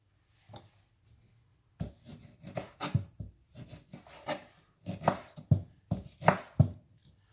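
Rapid knife strokes chop on a cutting board in close, irregular bursts, with brief pauses between runs of cuts.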